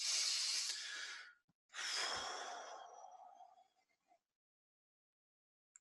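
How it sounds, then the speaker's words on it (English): Slow, deep breathing during a guided meditation, one long airy inhale followed by a long sighing exhale that fades to silence, close and fairly loud. "don't forget to breathe, because that's important too"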